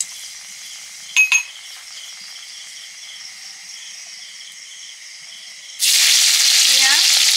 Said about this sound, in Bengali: ঘুগনিটায় ফোড়ন দিয়ে দিচ্ছি,